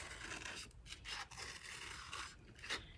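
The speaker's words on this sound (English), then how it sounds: "grab my scissors and we're gonna cut out our circle for our eyeballs" Scissors snip through paper to cut out circles for a handprint crab craft's eyes, a close, steady run of scraping, rasping cuts.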